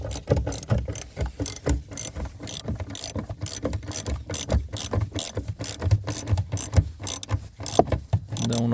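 Ratchet wrench tightening a taillight fastener on a 2009 Scion xB, a fast run of close, sharp clicking strokes with brief pauses, loud and without talk.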